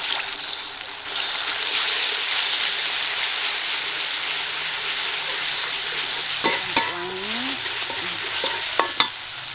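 Spice paste sautés for chicken opor, a steady loud sizzle and crackle filling the pan throughout, with a few scraping stirs and utensil knocks near the end.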